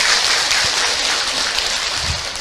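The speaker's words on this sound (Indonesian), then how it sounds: "tepuk tangan buat orang Cikarang." Audience at a women's Islamic study gathering (majelis taklim) applauds for guests from Cikarang, a dense, steady crowd clapping that fills the room at moderate loudness without pause.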